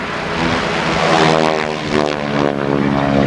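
Propeller aerobatic airplane flying maneuvers at the 1986 Daytona Beach Skyfest, a loud, steady droning engine with a rising and falling harmonic whine as it passes, with no talking.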